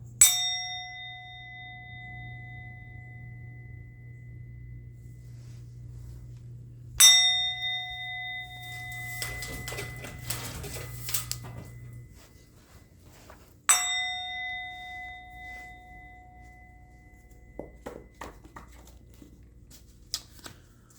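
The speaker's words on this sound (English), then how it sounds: "I'm going to ring the bell." Bell struck three times at spaced intervals, each strike ringing out with a clear tone that slowly decays, with soft shuffling and handling noises between the strikes.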